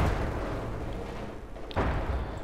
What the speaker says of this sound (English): Lots of machine gun fire arriving from numerous angles, actually.